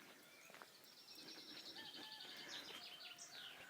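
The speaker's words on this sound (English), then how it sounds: "You hear that? I'm not sure what bird that is." An unidentified bird calls in woodland with a string of thin, high chirps and short tweets, faint and somewhat distant against a quiet outdoor background.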